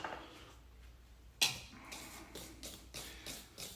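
A whisk scrapes and taps against a bowl while salt and baking powder are mixed into flour, starting with a sharp clink and then a few softer repeated strokes, quiet and close.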